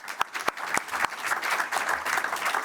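A conference audience at a ports industry forum applauds, a few distinct early claps swelling into steady, moderately loud clapping that continues to the end.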